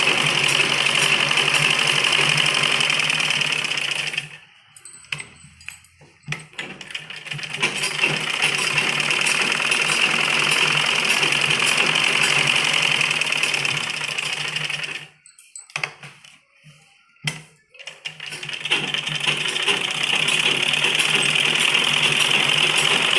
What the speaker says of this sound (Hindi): डबल सिलाई हम इसके ऊपर करेंगे।